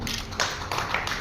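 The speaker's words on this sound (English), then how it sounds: "A round of applause for Mr." Brief, fairly quiet burst of audience clapping at an award ceremony, a rough crackle of many hands rising and falling in short surges.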